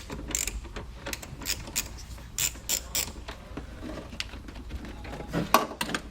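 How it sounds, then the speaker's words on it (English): Wrench working on the battery terminal of a 2002-2005 Land Rover Freelander, giving a run of light metallic ratcheting clicks and taps at close range, with no talking. "So we're going to disconnect the battery."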